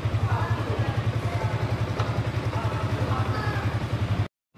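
A 2025 Yamaha R15M motorcycle engine idles close by with a steady low pulsing throb, running evenly for about four seconds before it cuts off abruptly into silence.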